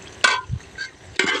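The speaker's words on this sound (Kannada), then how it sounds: "ಚಿಕನ್ ಒಗ್ಗರಣೆ ಹಾಕಿದೆ" Chicken frying in a pan as it is stirred, with two loud bursts of stirring and sizzle separated by quieter crackling.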